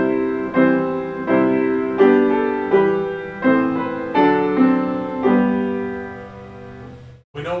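Piano cadence closing on a dominant triad with the fifth scale degree in the melody: a series of sustained chords played one after another at a moderate pace, close and clear, with the final chord left ringing unresolved.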